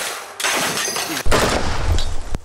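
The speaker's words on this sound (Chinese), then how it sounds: "两军正面开火，枪声不绝于耳" Gunfire on the Ukrainian front line, with sharp bursts and a heavy close boom partway through, followed by rumbling, crackling shots layered loudly over one another.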